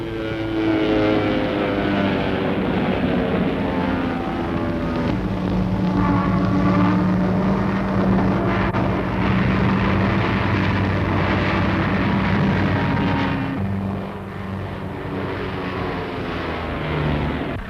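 Droning piston engine of a pre-war training biplane in a spin, loud and steady with harmonic tones wavering in pitch, easing slightly near the end.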